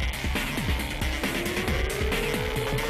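Supersport racing motorcycles roar past at full throttle at a race finish, a rising engine whine layered over dense crowd and commentary noise, loud and continuous.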